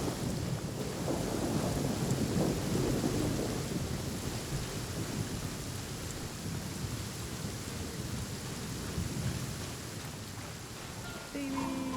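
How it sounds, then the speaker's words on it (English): Thunderstorm in Genshin Impact: a dense, loud wash of rain with low rolling thunder rumbling throughout, strongest early on, ending with a brief clatter. "Oh dear, it's storming."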